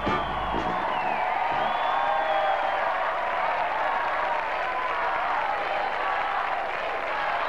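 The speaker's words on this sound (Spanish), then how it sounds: "Y ahí está la ovación para recibir a nuestros cuatro pueblos y a sus alcaldes" A large television studio audience gives an ovation welcoming four towns and their mayors on a 1995 summer game show, loud sustained clapping and cheering with whoops and a steady crowd roar.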